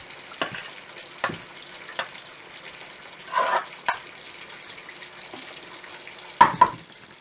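Beef steak pepper fry with julienned ginger being stirred in a pan, a soft sizzle underneath a few scattered scraping strokes of the spoon against the metal, close and fairly quiet.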